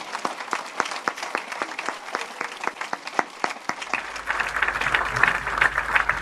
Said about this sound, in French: On peut acclamer encore Jésus-Christ